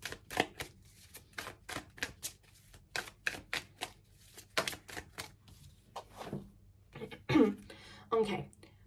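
Tarot cards being shuffled up close: a fast, even run of crisp papery riffles and taps, ending in a few louder rustles and shifts of the deck.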